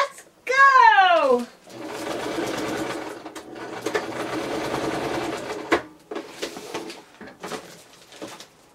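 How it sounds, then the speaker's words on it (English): A home sewing machine stitches a line through a plastic Amazon shipping bag, its motor running in a steady, whirring burst for several seconds, with brief stops and the rustle of the bag between runs; a voice is heard at the start. "And then I fold it over and then sew another line."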